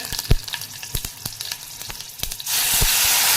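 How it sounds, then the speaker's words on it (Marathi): Mustard seeds and two chillies sizzle and pop in a little oil in a kadai, sharp crackles bursting irregularly over a soft frying hiss, then a sudden steady loud hiss takes over near the end. "कढईमध्ये आता एक छोटी पळी तेल घेतलेलं आहे मोहरी घातली आहे दोन मिरच्या"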